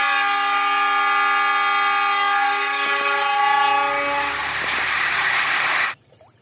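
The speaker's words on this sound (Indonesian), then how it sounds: "Widih, di sini ada kereta api lagi." A toy train's loud sustained horn-like whistle holds for several seconds, then fades into a rattling rumble before cutting off abruptly.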